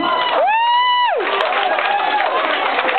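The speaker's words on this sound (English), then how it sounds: "Give them a round of applause, ladies and gentlemen." An audience at a 40th birthday party cheers and shouts in a loud burst, with excited high voices and whoops rising together, then trailing into mixed crowd noise.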